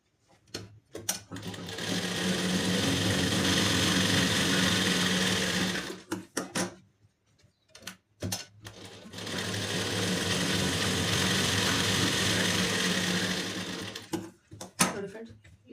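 A sewing machine runs kinnari stitching along a blouse lining in two long, steady, close whirring runs. Short clicks and pauses come before, between and after the runs.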